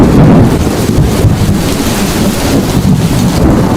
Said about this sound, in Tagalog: Di nagtagal, dumating na ang tag-ulan.